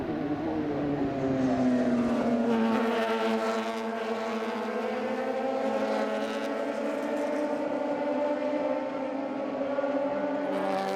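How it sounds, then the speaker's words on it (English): A field of twelve FSR race cars climbs over a hill at the CARCO raceway in Western Australia. Their engines make a continuous, loud layered roar, with pitch sweeping up and down as the pack passes. "a field of 12 FSR cars rockets up over the hill in the opening stages of their 2nd race of the day"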